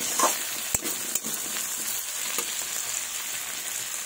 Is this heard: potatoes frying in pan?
yes